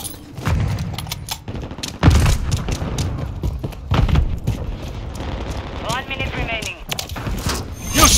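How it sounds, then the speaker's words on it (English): Grenade blasts and gunfire ring out in Call of Duty Modern Warfare 3 Kill Confirmed on the Mercado Las Almas map: repeated booms and bursts of shots, loud and dense, over a busy game soundscape. "Throwing grenade!"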